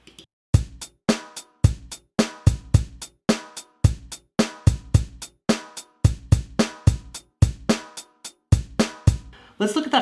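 A programmed drum loop made in Pro Tools, with its kick pattern switched up, plays steadily alone for about ten seconds: punchy kicks and snares in a tight, repeating rhythm under bright cymbal hits.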